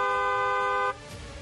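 A car horn sounds one loud, steady honk lasting about a second, then cuts off and leaves faint background noise.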